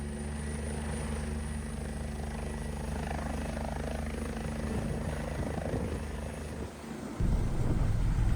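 A Mercy Flight air ambulance helicopter running loud and close, its rotor giving a dense, steady pulsing roar that shifts to a deeper, heavier thrum near the end.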